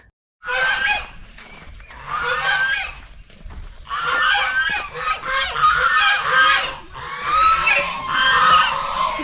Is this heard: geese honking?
yes